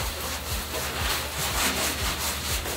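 Stubborn stuck dirt is scrubbed off a surface during house cleaning, a loud, steady back-and-forth rubbing and scraping in quick repeated strokes, close up and with no talk.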